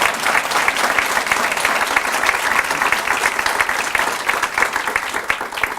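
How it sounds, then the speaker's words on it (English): Sustained audience applause fills an awards ceremony for a literacy honor, a dense steady wash of many hands clapping at an even level from start to finish with no voices over it. "Let's all give them some applause."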